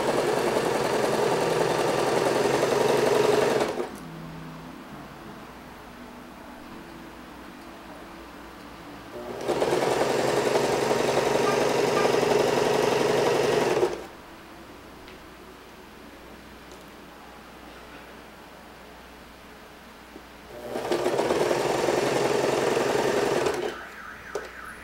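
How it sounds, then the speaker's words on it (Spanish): A domestic sewing machine runs a straight stitch and then a zigzag in three steady motor bursts of a few seconds each, separated by quiet pauses, loud and close with no voices. "Entonces cosemos con puntada recta para luego terminar en zigzag."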